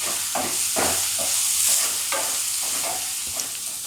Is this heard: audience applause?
no